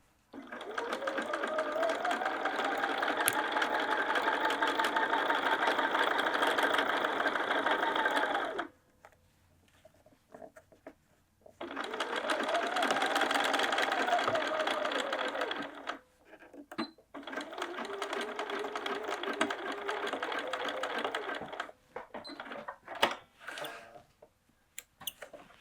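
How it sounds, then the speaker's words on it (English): A sewing machine stitches a tote bag pocket in three long runs of fast, even whirring, with short pauses and small clicks between runs as the fabric is pivoted. "we're going to pivot again and sew back up"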